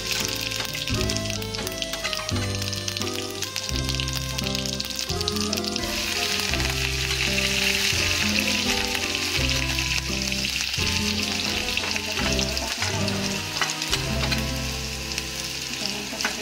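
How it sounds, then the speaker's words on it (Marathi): Cumin seeds sizzle and crackle in hot oil for an Indian ankur bhaji sprout dish, a loud, steady frying hiss up close, with background music playing underneath throughout. "आता आपलं तेल गरम झालेलं आहे. त्यात प्रथम आपण जिरे टाकून घेणार आहोत."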